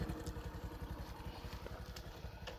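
A motorcycle idles nearby with a steady, low, pulsing thrum while it is being parked beside a river bridge, moderately loud with a faint clatter at the end.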